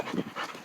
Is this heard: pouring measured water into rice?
no